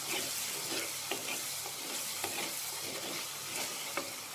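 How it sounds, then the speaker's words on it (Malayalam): Garlic-ginger paste frying in a pan for chicken masala, with a soft continuous sizzle and a few light spatula scrapes and taps over a few seconds, nearby and fairly quiet. "അതിന് വേണ്ടി ജസ്റ്റ് ഒന്ന് ഇളക്കുക."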